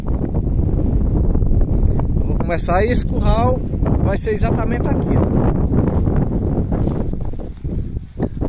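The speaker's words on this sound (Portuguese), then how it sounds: "Talvez não esteja dando pra você escutar o áudio direito, porque tá ventando muito" Steady low rumbling wind buffeting the microphone throughout at a cattle corral outdoors, with someone talking over it.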